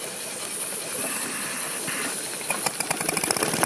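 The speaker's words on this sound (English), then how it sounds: "This over here is a super duper high performance launch engine with needle roller crossheads" A model steam launch engine, a compound with needle roller crossheads and a flywheel governor, runs with a steady hiss and a rising train of quick mechanical clicks and knocks toward the end, close by with no talking.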